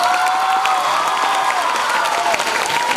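A school audience at IES Sánchez Cantón applauds a young girl singer at a Tu cara me suena talent show, with loud, continuous, dense clapping and some crowd noise and a faint sustained tone underneath.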